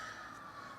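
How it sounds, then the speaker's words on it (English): An emergency vehicle siren drifts in from outside through open doors and windows on a morning, a faint sustained wail heard alone for under a second. "sorry for the sirens."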